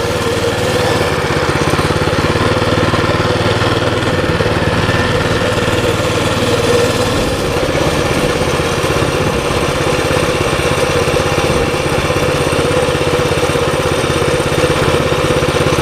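A Baja Warrior minibike engine idles steadily and fairly loud from start to finish, an even buzzing putter with a slight shift partway through and no talking.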